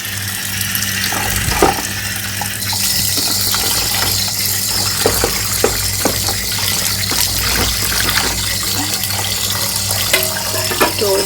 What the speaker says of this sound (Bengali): এবার এর নিচে কলের নিচে বসিয়ে দিই ডাইরেক্ট।